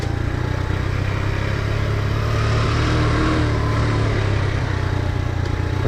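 A Honda CT motorcycle rides a summer trail in first gear, giving a steady, unbroken engine drone with some clatter throughout and no talking.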